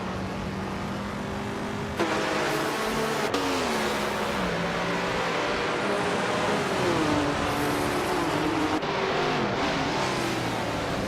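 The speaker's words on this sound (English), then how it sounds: "Bot Nulavi is driving a 1966 McLaren Elva Oldsmobile." A 1966 McLaren Elva Oldsmobile race car engine in a racing video game, loud and continuous, its pitch rising and falling with shifts and revs, with no one talking.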